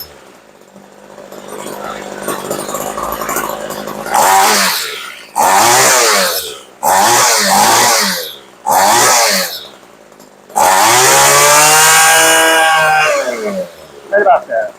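A Homelite weed eater's small two-stroke engine revs in several loud bursts, dropping back to a rough idle between each, with a final long sustained rev near the end.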